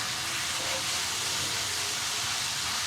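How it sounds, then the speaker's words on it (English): Scraping stuck browned bits off a hot cast iron pan while making steak fajitas, heard as a steady broad sizzle and hiss with faint scraping, close and continuous. "All right, so all those flavors that were stuck to the cast iron, we'll go ahead and scrape them."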